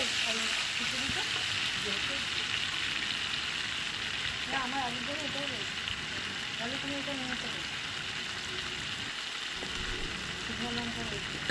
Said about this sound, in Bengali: মশলাটা ভালো করে মা কষিয়ে নিচ্ছে